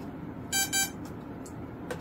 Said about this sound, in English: Heard them first three beeps or little beeps?